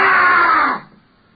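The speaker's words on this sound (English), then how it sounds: "A wild, hoarse scream." A wild, hoarse scream in a Sherlock Holmes radio drama, one loud raw cry lasting under a second, then cut off abruptly into near silence.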